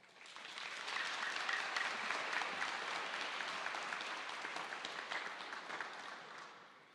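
Audience applause at a school graduation ceremony, steady clapping from a large crowd that swells in the first second, holds for several seconds and tapers slightly at the end.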